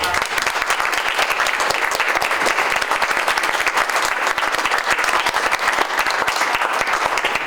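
A crowd at a glass art gallery event claps enthusiastically, dense steady applause lasting several seconds with no pauses.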